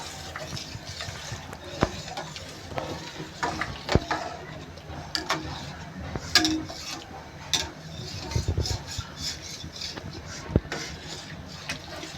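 Doodh pak milk pudding is stirred in a pot over high heat, with soft bubbling and repeated light scrapes and taps of a spoon against the metal.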